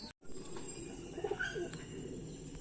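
Pigeons in a bird keeper's coop coo softly in a short, low burst in the middle, over a quiet, steady room background with no speech.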